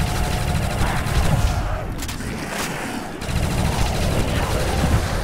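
Continuous rapid gunfire from a weapon in Call of Duty: World at War zombies, a dense, loud, unbroken barrage of shots that dips briefly midway before resuming at full intensity.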